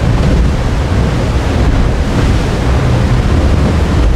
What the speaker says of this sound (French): La mer s'est un peu calmée, le vent aussi